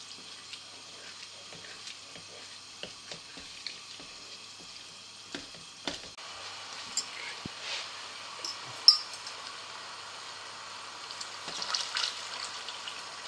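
Stock is poured into a pan of bubbling Bolognese risotto, a soft liquid gush with gentle sizzling and scattered small clinks, fairly quiet and close, no voices.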